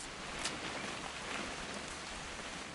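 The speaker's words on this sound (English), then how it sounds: "It's gonna rain the whole weekend, isn't it?" Steady rain falls in the video game What Remains of Edith Finch, an even hiss of drops on surfaces with no break, soft and continuous.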